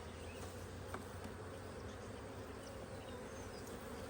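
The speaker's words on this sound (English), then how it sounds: "Bees do not like to fly at night." Honey bees swarm and buzz around an opened hive box at dusk as frames are pulled during spring beekeeping, a dense, steady close drone with no pauses and no voices.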